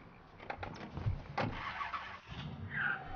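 A car starting and pulling away in Mafia III, engine turning over with a few clicks and rising motor rumble at moderate, close level.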